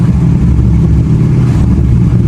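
A Dodge SRT with an aftermarket cam and tune drops through sport-mode downshifts, its engine a loud, steady low rumble close by with no talking.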